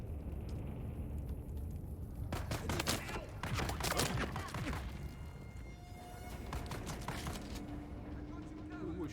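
Gunfire in the video game Dune: Awakening, a series of sharp broadband bursts clustered in the middle of the clip over a steady game ambience, with a low tonal hum later on.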